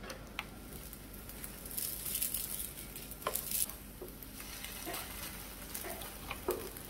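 French toast frying in a pan, with a soft, steady sizzle and occasional sharper crackles and light clinks nearby, mostly alone with no talk.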